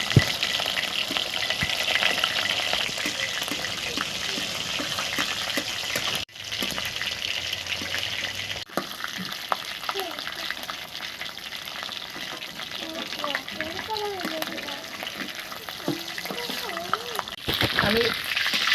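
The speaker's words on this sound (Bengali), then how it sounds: "ভাজার জন্য রোস্টটা দিয়ে দিলাম।" Pieces of meat roast frying in hot oil in a home kitchen, a continuous close sizzle with occasional stirring and spatter, while someone talks over it.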